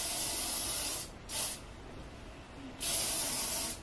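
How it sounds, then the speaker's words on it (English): BioSilk Silk Therapy Shine On hair spray hisses from the can in three bursts: a long spray, a short puff, then another long spray, loud and close with no talking. "I'm gonna go in with the BioSilk Silk Therapy Shine On Spray just to give my hair"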